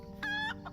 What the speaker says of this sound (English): Here's the chickens I can click on.